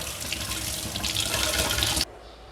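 Tap water pours steadily over an IP68 waterproof iMiKi TG1 smartwatch, a loud continuous splashing hiss that stops abruptly just after two seconds, leaving quiet room tone.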